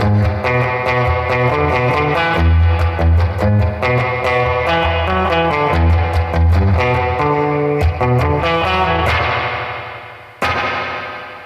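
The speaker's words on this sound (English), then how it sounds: "It sounds that springy, it sounds a lot like the deluxe reverb, but it doesn't quite." An electric guitar played through a CTC Mirage reverb pedal, with strummed chords and picked notes washed in bouncy, spring-style reverb. The last chord rings out into a decaying tail, then a brief final hit, with no talking.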